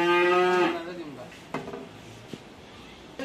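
A newly bought dairy cow gives one loud, close moo that fades out, followed by a few faint knocks and clatters nearby.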